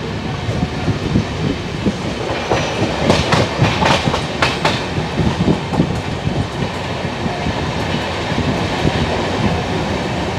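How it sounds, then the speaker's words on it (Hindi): Riding the Jodhpur Express out of Sawai Madhopur, the carriage carries a constant loud rumble with rhythmic clickety-clack over rail joints and a brief burst of squeals and rattles midway. "फाइनली 4:05 पर हमारी ट्रेन यहाँ से चल चुकी है"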